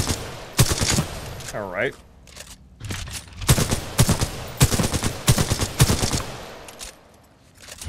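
Rapid bursts of gunfire from a long-range rifle in Titanfall 2, loud repeated volleys in quick clusters, with a short speaking voice and a sweeping electronic whine between shots.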